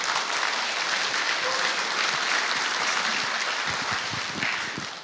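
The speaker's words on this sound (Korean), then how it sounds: "박수로 한번 환영하겠습니다" A church congregation applauds steadily and fairly loudly, a dense continuous clatter of clapping that tapers slightly at the end.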